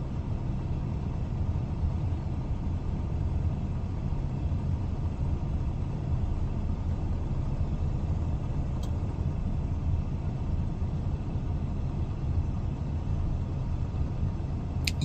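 A car's wheels spin and struggle for grip, a steady low engine rumble with continuous broadband road and tyre noise, fairly loud and unbroken throughout, no talk.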